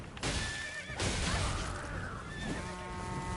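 A horse in the video game Elden Ring gives a quavering neigh, fairly faint against a busy, noisy game background, with a scrape or clatter partway through.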